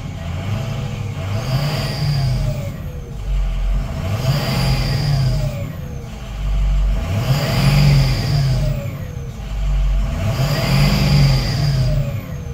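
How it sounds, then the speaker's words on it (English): A 2007 Ford F-450 auto crane truck's engine revved repeatedly, four rising-and-falling revs with idle between, loud and close, with no talking. "let me rev it up for you so you can hear the engine."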